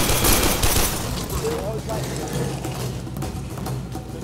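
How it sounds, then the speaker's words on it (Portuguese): Rapid bursts of gunfire in the shooter game Warframe crackle continuously across the whole stretch, mixed with game noise, while a person talks over the action. "Nossa, estão atirando em mim."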